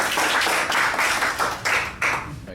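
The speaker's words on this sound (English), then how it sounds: "So, round of applause." An audience at a tech meetup applauds with steady, dense clapping that swells in short waves for a couple of seconds. The clapping is close and fairly loud, and no one speaks over it.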